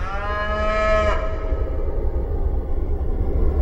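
A single free-range cow gives one loud, close moo lasting about a second. A low, steady rumble of wind or open-air background runs underneath it.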